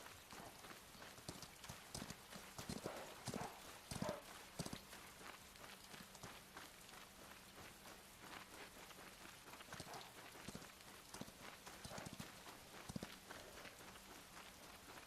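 Horse hooves clip-clop in the action MMO Chrono Odyssey, a steady run of soft, fairly faint hoofbeats mixed with a rain-like patter.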